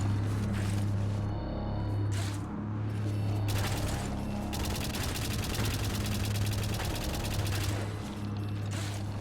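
Turrets firing in the White Knuckle video game, a rapid rattling burst of shots repeating in stretches over a steady low mechanical hum, moderately quiet and continuous.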